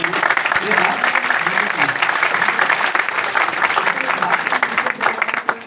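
Audience at a motivational speaking event in Andheri West gives loud, sustained applause, dense clapping filling the room steadily with crowd voices mixed underneath.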